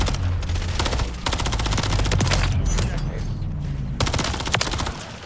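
Rapid automatic gunfire from Call of Duty: Modern Warfare 3, with dense bursts of shots in repeated volleys, loud and close throughout.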